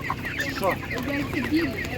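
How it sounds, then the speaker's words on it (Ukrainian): A hen with thick legs, one of a group of chickens for sale at an animal market, clucks in short repeated bursts close by, rising and falling against background chatter from the crowd. "Курка бомбезна просто."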